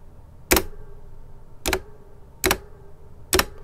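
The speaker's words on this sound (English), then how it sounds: "this keyboard has very springy, echoey keys." Four separate key presses on a Logitech G613 wireless mechanical keyboard, each a sharp, springy click with a short ringing echo, evenly spaced and close up with no talking.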